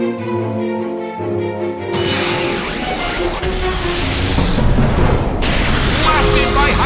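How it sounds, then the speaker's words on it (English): A Hyper Beam attack blast in Pokémon Battle Revolution hits as a loud, sustained booming roar that swells and rumbles for several seconds over game music, with a sharp burst at its onset. "Blasted by Hyper Beam!"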